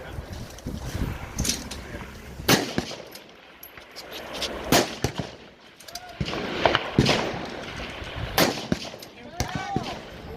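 Precision rifle shots fired at targets during a PRS match, several sharp loud cracks spaced a few seconds apart over wind noise and outdoor background, with distant faint metallic impact rings following some shots.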